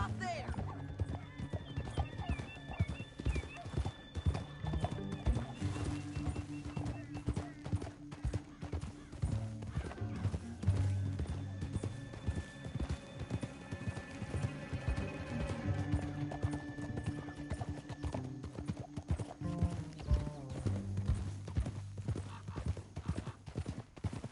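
Rapid hoof clip-clops of several horses pound steadily throughout in Red Dead Redemption 2, with an occasional whinny, all under a dense mix of other game sounds.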